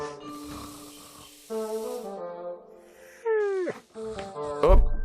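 A cartoon dog in The Little Acre video game whimpers and yelps in short, rising and falling whines over soft game music, close and fairly loud, with no talking.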